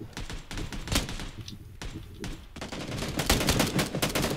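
Gunfire in the battle royale PUBG crackles in quick, clustered bursts of shots, fairly close and loud, building into denser fire toward the end.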